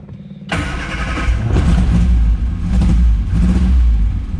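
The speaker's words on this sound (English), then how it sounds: "So it does start. It hardly revs up." An old engine, choke pulled, cranks briefly and then catches abruptly, settling into a loud, close, uneven running note that barely revs, with no talking.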